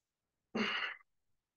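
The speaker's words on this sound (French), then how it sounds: "on va simplement inspirer et expirer profondément par le nez" A single deep breath through the nose during a Kundalini yoga breathing exercise, one close, soft, airy exhale lasting about half a second in otherwise quiet surroundings.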